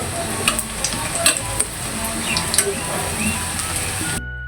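Onion fritters (piyaju) frying in hot oil and being turned over, a steady close sizzle with scattered soft knocks of a utensil, then a brief drop into quiet near the end.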